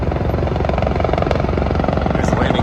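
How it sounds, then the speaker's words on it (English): A helicopter flies low overhead near a disaster response landing zone in North Carolina, its rotor thumping in a rapid steady pulse, loud and close throughout. "Just about every day we've seen all sorts of choppers coming overhead."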